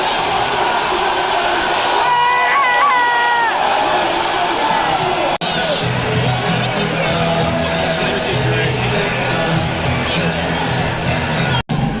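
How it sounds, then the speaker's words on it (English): A packed baseball stadium crowd in Cleveland cheers and screams in a loud, sustained roar, with whoops and a rising wave of noise, and a voice talks over it. "This crowd is up on its feet, making some noise"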